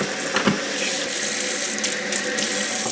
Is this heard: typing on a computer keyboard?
no